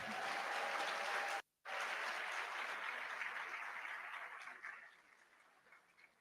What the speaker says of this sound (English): I think I've earned myself an applause